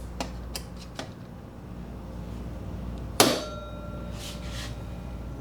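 A single sharp metallic strike of a hammer on a transfer punch against metal rings out, with a few lighter taps beforehand against a steady background hum in a workshop.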